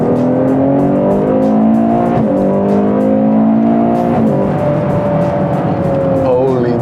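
Ferrari 812 Superfast V12 engine accelerating hard, a loud, close, rising roar that climbs through several gear changes, with a brief squeal toward the end.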